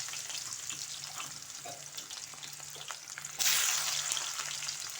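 Chopped large onion hitting hot oil in a kadai sizzles and fries steadily, with a low hum underneath and a sudden louder burst of frying partway through as more goes in or gets stirred.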